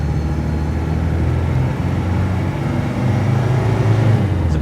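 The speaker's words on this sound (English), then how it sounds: "Bit of turbo there, and that's second gear up to 28 miles an hour" A car accelerates hard in second gear up to about 28 mph, its engine droning steadily with a faint turbo rise and road noise, loud and close, with no talk.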